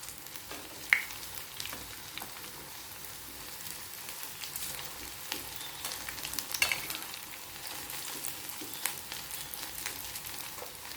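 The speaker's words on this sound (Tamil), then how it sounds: "இந்த பக்கமும் நல்லா ஃப்ரை ஆகி வரட்டும்." Quick vadas made without soaked urad dal sizzle in hot frying oil, a continuous crackling hiss with scattered sharper pops and a few faint clinks, close and even for the whole stretch.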